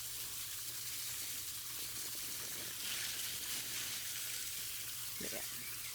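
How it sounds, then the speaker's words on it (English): Tumbled obsidian stones are rinsed off under running water, a steady broadband splashing rush that holds even and continuous throughout, with a few faint clinks near the end. "It's all getting rinsed off and then put back in the barrel."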